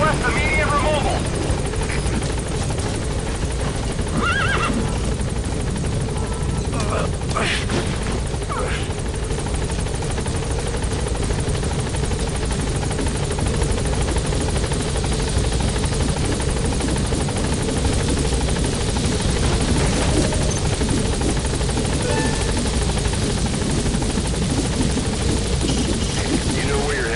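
Helicopter in a video game hovering while trying to land at an obstructed landing zone, a loud continuous rotor thrum and engine whine that fills the whole stretch, with a few brief radio-style voice bursts over it.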